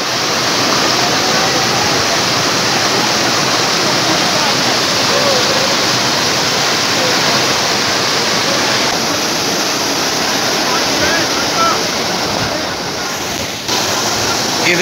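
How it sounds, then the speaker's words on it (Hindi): Fast-moving water pours down like a waterfall at Lahooti Picnic Point in Karachi, a loud, steady, close rush of broadband noise that fills the whole stretch. "कितनी स्पीड में पानी गिर रहा है, जैसे आबशार की तरह"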